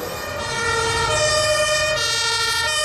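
German fire truck siren wailing loud and steady, a two-tone horn pattern shifting pitch over a rumbling engine, close by with no voices.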